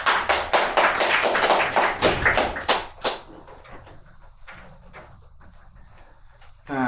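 Audience clapping in a stand-up comedy club, a dense burst of applause for about three seconds that then thins out to scattered claps, with low chatter underneath.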